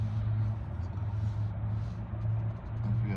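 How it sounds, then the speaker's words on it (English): Low, rumbling drone of a loud car idling or passing close by, steady throughout with slight swells, with a person talking over it. "Somebody with a loud car next to me."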